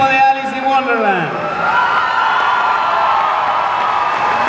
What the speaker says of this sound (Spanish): Un aplauso para el equipo de Alice in Wonderland